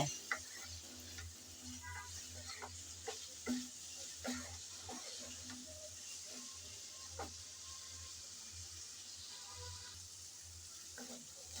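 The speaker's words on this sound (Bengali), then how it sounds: "আমি প্রায় চার পাঁচ মিনিটের মতো নেড়ে চেড়ে ভেজে নিলাম" Potato greens fry quietly in a pan with spices, giving a soft, steady sizzle broken by scattered light clicks and taps of a spoon stirring against the pan.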